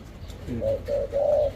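A spotted dove coos nearby, three soft low hoots in a row, the last one drawn out longer.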